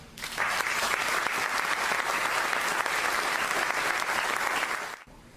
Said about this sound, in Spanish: acompañémosla con un fuerte aplauso